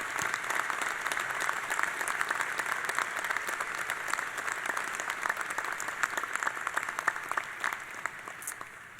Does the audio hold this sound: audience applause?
yes